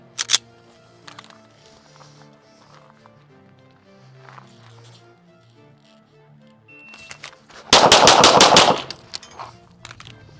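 Rapid handgun shots fired at a USPSA competition drawing from an appendix holster, a fast string of sharp, loud cracks around the eight-second mark, preceded by scattered quieter clicks and movement noise.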